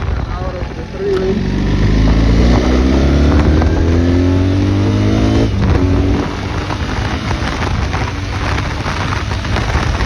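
A 2025 BMW R1300 GS motorcycle accelerates onto a freeway, its engine note rising steadily through the gears under heavy wind roar, loud and continuous throughout.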